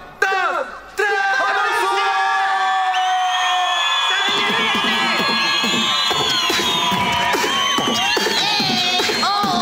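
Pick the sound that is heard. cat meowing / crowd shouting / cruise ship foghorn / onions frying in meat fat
crowd shouting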